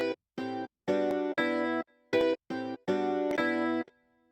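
A chopped guitar sample from a hip-hop beat plays dry, without its effects, as short separate plucked chords and phrases with abrupt silent gaps between them.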